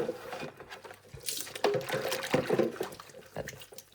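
Coffee machine parts washed by hand under running water, with splashing, sloshing and squishy handling sounds that rise and fall irregularly at close range, with no talking.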